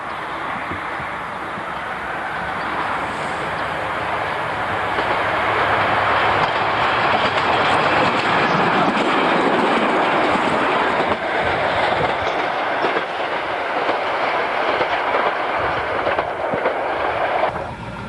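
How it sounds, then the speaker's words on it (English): A Craven diesel multiple unit rolls across the viaduct at Chapel, with a steady rumble and rhythmic clickety-clack of wheels that grows louder and holds close for many seconds before easing. "the Craven unit is passing across the viaduct at Chapel."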